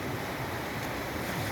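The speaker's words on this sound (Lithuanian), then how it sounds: "Mes su Rita prie jūros" Steady rushing surf with a broad, even roar and no clear breaks, like waves washing continuously close by, mixed with some wind noise.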